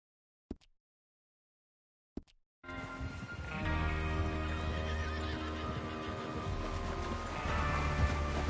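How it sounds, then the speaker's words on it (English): Horses in a Red Dead Redemption 2 game scene give two short snorts or whinnies over near-silence, then steady hoof clip-clop and movement noise fill the rest, continuous and fairly close. "Get your horses ready."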